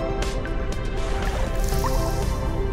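Water splashing and dripping in the fish video game I Am Fish, a busy wet burble of drips and small splashes running steadily throughout.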